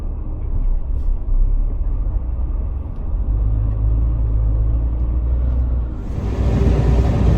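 A vehicle engine idles in a traffic jam on the road from Blagoveshchensk to Yakutsk, a close, steady low rumble that swells slightly toward the end with no talk.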